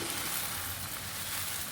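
Carrot adai batter sizzles softly on a hot adai griddle stone, a brief, faint, even frying crackle with no voices.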